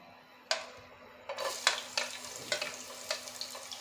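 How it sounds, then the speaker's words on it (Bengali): Chopped garlic dropped into hot oil, a sudden sizzle followed by a quick series of spoon taps and crackles in a pan, close and moderately quiet with no voices. "প্রথমে দিয়ে দেব আমি রসুন কুচি"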